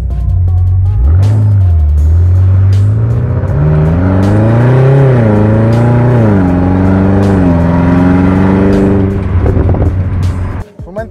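A 625 hp BMW M5 Competition drives with its sports exhaust, the engine note steadily rising and falling through several gear changes as a continuous loud drone inside the cabin, ending abruptly.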